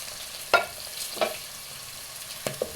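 Carrots fry in a pan, a soft steady sizzle broken by several quick scraping stirs, close by and without talk.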